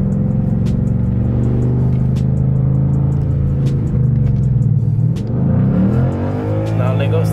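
A 2015 Mustang GT with the performance package rolls in second gear, giving a deep, steady engine drone with a few faint clicks. Near the end the drone swells and climbs in pitch as it accelerates.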